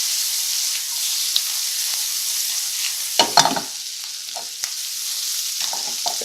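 Shrimp dropped into a hot pan for shrimp scampi set off a steady, close sizzle with a few brief clatters of stirring, and no one speaks.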